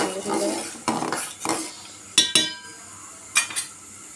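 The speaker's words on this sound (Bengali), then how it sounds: "কয়টা বাজিটা আমি একটা বাটিতে ঢেলে নিব" Fried poa fish pieces tipped from a pan into a bowl, giving a few separate clinks and clatters of metal and dishware at irregular intervals, close and moderately loud, with no talking.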